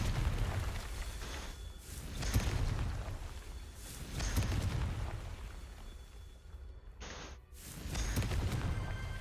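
The Confringo blasting spell in Hogwarts Legacy goes off as several booming blasts spaced a couple of seconds apart, each a broad burst over steady game ambience, with a brief high tone near the end.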